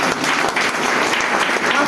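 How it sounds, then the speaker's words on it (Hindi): An audience at a network-marketing seminar breaks into vigorous, sustained applause, a thick wash of clapping that stays loud and even from start to finish. "वाह ग्रेट, जोरदार ताली बनता है सर"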